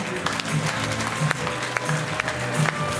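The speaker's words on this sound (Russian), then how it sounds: "лучшая награда – это заслуженные аплодисменты зала" An audience in a hall applauds steadily, a dense patter of many hands clapping at moderate volume with a few sharper claps standing out, over a low hum of the room.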